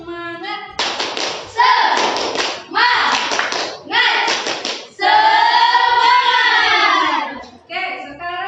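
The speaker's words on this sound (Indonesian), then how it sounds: "1, 2, 3, tepuk semangat." A group of people claps along to a counseling group's rhythmic 'tepuk semangat' cheer, with loud voices chanting over the claps and a long sustained shout near the end.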